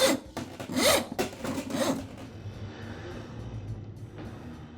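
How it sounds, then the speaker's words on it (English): An old cable rasps and scrapes as it is pulled out of the drum of a Ridgid drain auger, in a few loud rubbing bursts that fade to a quieter rustle. "I'll begin by pulling the old cable completely out of the drum."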